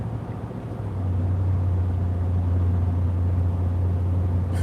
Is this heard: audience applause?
no